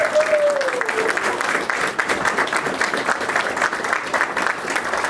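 Sustained applause from an audience for a Pearl Harbor survivor speaker at a meeting fills the whole stretch, a dense, steady wash of clapping with a brief tonal squeak early on.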